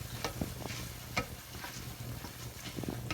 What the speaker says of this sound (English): I'm going to just stir that until all the liquid is gone.